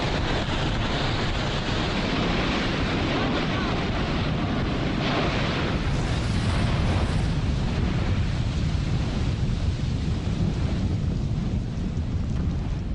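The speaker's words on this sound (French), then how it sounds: "les gaz se détendent. C'est l'explosion. C'est ce que vous entendez derrière." Deep, continuous roaring rumble with bursts of blasting explosions from the Yasur volcano erupting nearby, loud and sustained throughout.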